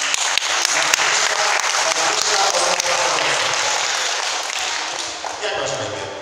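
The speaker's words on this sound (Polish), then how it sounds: "brawa" A school class claps together in a sustained, dense burst of applause lasting several seconds, crisp hand claps close and loud, easing slightly toward the end.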